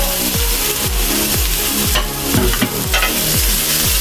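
A steak cooks on a grill with a loud continuous sizzle, broken by repeated sharp scraping or pressing sounds in a fairly regular rhythm, close up.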